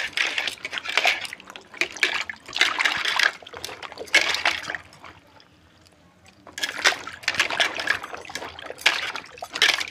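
Dimiri fruit (cluster figs) is washed by hand in a pot of water, giving close bursts of splashing and sloshing in several rhythmic bouts separated by a brief quiet pause.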